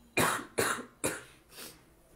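Four separate coughs from a woman with a cold, fever and chills, the first three sharp and close together, the last softer and weaker, with no talking.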